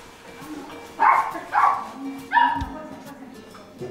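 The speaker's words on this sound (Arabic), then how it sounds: "عندهم كلب" A neighbours' dog on an Arabic-speaking household's rooftop floor gives three sharp barks, two close together and one after a short pause, fairly near, with faint room noise and a low thump after.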